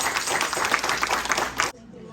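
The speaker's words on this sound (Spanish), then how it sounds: "vamos a recibirlos con un fuerte aplauso a ellos y a su familia" A church congregation at a Sunday service gives loud, dense applause that cuts off abruptly near the end, leaving a quiet room.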